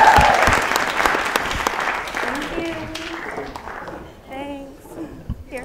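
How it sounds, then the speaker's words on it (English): Studio audience applause greets a guest on a late-night talk show, loud and dense at first, then thinning out and fading, with voices talking over the tail end. "her name is Alice Holland, so let's give her a round of applause"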